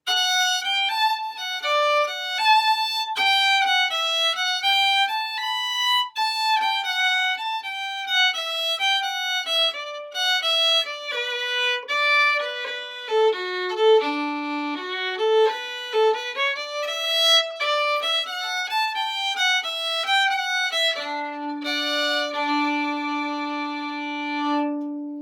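Part B of the Irish hornpipe Boys of Bluehill, played as a bright solo melody of clear, quick notes in a lilting rhythm, ending on a held low note; no voices.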